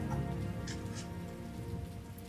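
Steady rain falls throughout a video game scene, a dense even patter close by with no voices over it.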